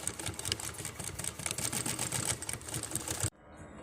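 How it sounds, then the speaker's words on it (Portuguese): Sewing machine stitching a cushion for an iron chair: rapid, even mechanical clatter of the needle running close and steady, stopping abruptly before a quiet tail. "Então aí a gente vai costurando."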